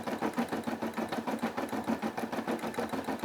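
A Brother SE600 embroidery machine stitches a design with a fast, steady, rhythmic chatter of the needle, heard up close and continuously with no talking.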